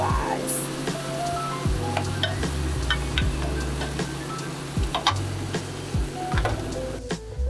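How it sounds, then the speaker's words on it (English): Mushrooms sauté in a pan with a steady sizzle and frequent small ticks and clinks from stirring, close and moderately loud throughout. "So while our mushrooms are sauteing"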